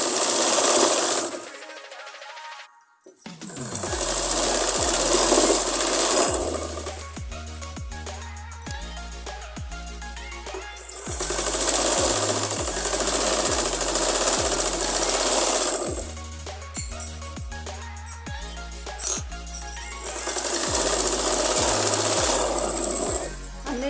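A sewing machine stitches the side seam of a trouser leg hem in bursts of rapid whirring, separated by pauses with clicks and soft handling of the fabric.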